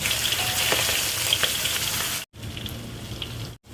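Steady, loud sizzling of tuna frying in a pan, crackling continuously with two brief silent gaps.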